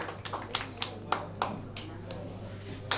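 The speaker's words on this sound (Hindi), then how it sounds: "एक बार जोरदार तालियां बजाएं इनके लिए।" A small audience gives scattered, uneven handclaps for a quiz contestant: a handful of separate sharp claps spread across a few seconds, fairly quiet and thin rather than a full ovation.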